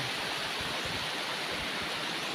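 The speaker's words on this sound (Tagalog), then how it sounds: "At ito na nga po yung ilog." A river flows through forest at Headgate in Lopez Jaena, giving a steady, even wash of rushing water with no breaks or voices.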